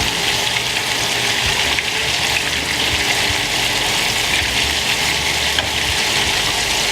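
Meatballs fry in a crowded pan of hot oil with a steady, dense sizzle, loud and close, continuing evenly without pause and with no talking.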